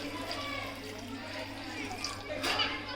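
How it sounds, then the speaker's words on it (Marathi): Hot water pours steadily over dried fish in a bowl in a home kitchen, a continuous close splashing rush that swells briefly near the end. "इथे आपण हा गरम पाणी घेतलेला आहे तो यामध्ये टाकून घेणार आहोत"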